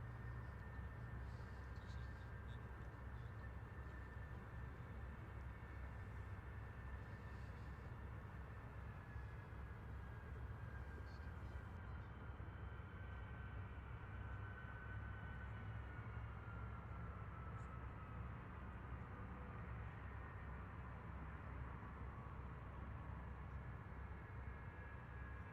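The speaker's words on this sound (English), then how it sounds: "Vulcan has been cleared to continue her taxi back to her stand, number 16" Avro Vulcan XH558 jet bomber taxiing at Robin Hood Airport, Doncaster, heard as a steady, continuous engine roar and whine that holds level for the whole stretch with no talk.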